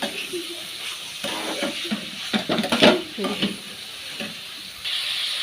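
Spice masala frying with boiled potatoes, sugar and chillies in a pan: close, steady sizzling under repeated stirring scrapes and clinks of a spoon against metal, with a couple of louder bursts of frying.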